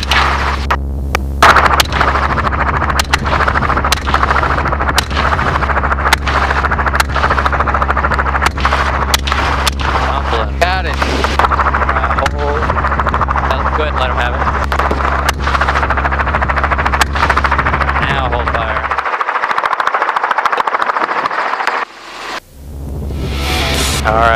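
Helicopter rotor throb and engine hum dominate throughout a hog hunt, punctuated by many sharp, rapid gunshots fired at hogs from the aircraft, with the drone briefly dropping away near the end.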